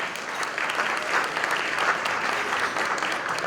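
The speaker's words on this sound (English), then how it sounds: "Yes, applaud." Steady audience applause fills the room, a dense even patter of many hands clapping at moderate volume without pause.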